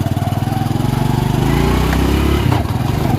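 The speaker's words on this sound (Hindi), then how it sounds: "स्टार्ट हो गया है मोटरसाइकिल और मैं जा रहा हूँ आगे का" Motorcycle engine, recently repaired by a mechanic, runs close and loud with a fast throbbing idle that rises into revs partway through, with a clunk near the end.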